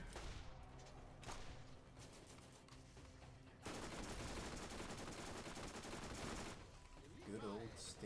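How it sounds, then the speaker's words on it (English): Rapid bursts of Stinger submachine gun fire in the Borderlands game, dense and sustained across most of the stretch with a brief gap near the end, loud and close, with no talk over it. "Good old Stinger. I like this submachine gun. Just run and gun."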